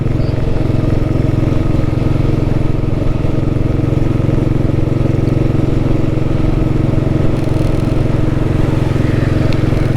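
A vintage Royal Enfield Bullet motorcycle engine runs steady and loud, with a constant thumping drone and mechanical clatter, close up and uninterrupted.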